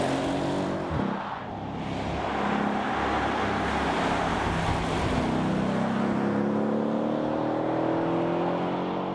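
A Mercedes E-Class E63 AMG V8 drives on an open road, its engine note rising and falling through several climbing pulls, loud and continuous with road roar, no talking.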